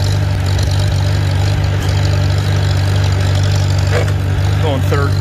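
A Farmall Super C tractor engine running with a loud, steady low rumble close by, with a voice briefly heard over it toward the end.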